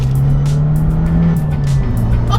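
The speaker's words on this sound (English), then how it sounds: "You put the sport mode on and it activates the exhaust." A sports car with a factory Akrapovic exhaust in sport mode pulls hard in second gear, a loud, close, continuous engine drone with a steady pitch that dips briefly near the end.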